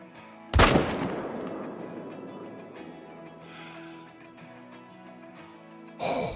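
A single loud rifle shot at a deer in the hunting video game Call of the Wild cracks sharply and rolls off in a long echoing tail, with a second burst near the end.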